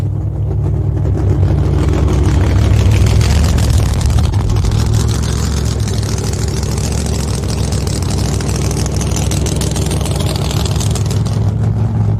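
Exotic drag racing cars with fiberglass bodies roar down the strip in a loud, continuous engine drone that swells slightly early on and then holds steady.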